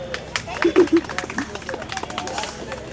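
A small audience claps for the winner of a stage program, a short burst of hand claps under crowd chatter and a speaking voice, fading into babble.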